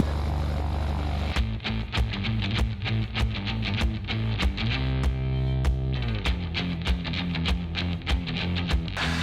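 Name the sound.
vintage Cessna Skylane propeller airplane taking off from private runway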